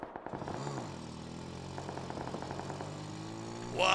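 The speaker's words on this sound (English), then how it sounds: "I'm gonna get out of here with my scooter." A scooter engine in a video game runs steadily at a constant drone for several seconds, with a dip in pitch early on and a brighter burst at the very end.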